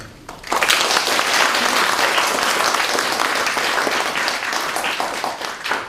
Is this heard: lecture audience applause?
yes